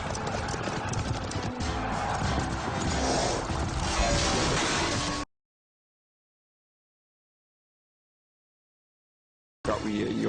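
Horses gallop during a jousting stunt, hooves clip-clopping loudly and close with an occasional whinny, then the sound cuts to silence for several seconds before briefly resuming.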